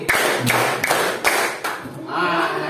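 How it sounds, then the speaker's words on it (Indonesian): A classroom of children claps in unison four times, sharp loud claps in a steady rhythm, followed by a brief pause with faint murmuring. "Tepuk 4 kali."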